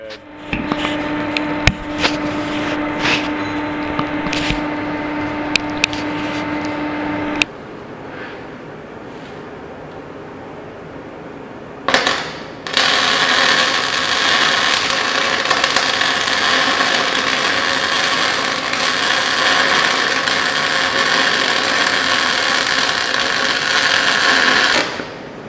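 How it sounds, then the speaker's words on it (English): Welding a D-ring onto a 3/4 by 3 steel plate for a chopper hitch and bumper build: a steady, dense crackling hiss runs close and loud through the second half, after quieter clanking shop sounds and a pause. "I'm going to go ahead and weld that all up real good."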